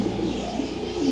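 Lahori pigeons coo in soft, low repeated calls at close range, a few rounded murmurs over a faint steady background.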